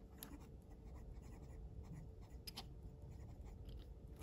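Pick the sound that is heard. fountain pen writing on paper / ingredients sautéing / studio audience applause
fountain pen writing on paper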